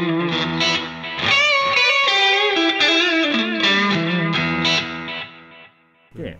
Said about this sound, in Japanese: かなりジャキジャキ感があってですね、素敵なクランチだと思います